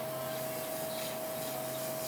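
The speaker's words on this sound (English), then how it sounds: "That's a nice sizzle." Butter sizzling on a hot griddle while cooking bread for a vegan meal, a steady dense hiss with no pauses, close and fairly loud, with no talking.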